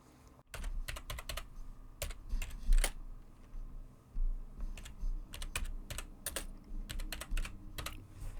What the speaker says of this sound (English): I'll type some text.